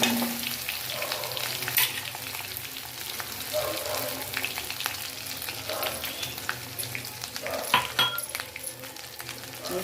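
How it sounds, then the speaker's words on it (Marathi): Ginger garlic paste sizzles and spits in hot oil as it is stirred for chilli paneer gravy, with a steady frying hiss, scraping stir strokes and occasional clinks of the utensil against the pan. "मी चांगली तेलात ना परतून घेणार आहे."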